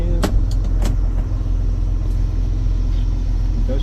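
A John Deere 6810 tractor with an intermittent starter runs after starting, a steady low engine rumble close by with a few sharp clicks and knocks early on, no voices heard.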